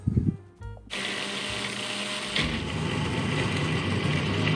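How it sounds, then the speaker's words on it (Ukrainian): A kitchen blender mixes dry cookie crumbs with egg white for Italian Pan dei morti dough, starting with a few knocks and bumps, then a loud, steady whirring motor close up that holds until the clip ends. "Знову все закриваємо та змішуємо."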